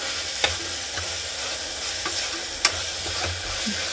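Drumstick leaves with their stems sauté in a pan for soup, giving a steady hiss of sizzling oil punctuated by a few sharp clicks and taps from stirring.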